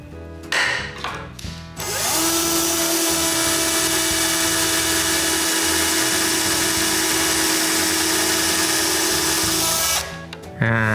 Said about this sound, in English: Then I drill some pilot holes.